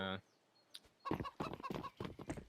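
A chicken in Counter-Strike on the Inferno map gives a burst of throaty clucking and gobbling calls during a professional ESL Pro League match. The calls come in quick irregular bursts, close and moderately loud.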